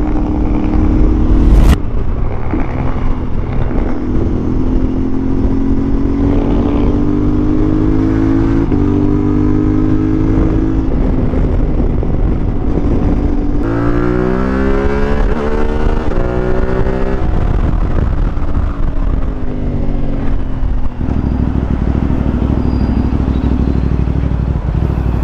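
A CFMOTO 450MT adventure motorcycle is ridden along a road, its engine droning continuously and loudly, rising and falling in pitch through gear changes and throttle, with wind buffeting throughout.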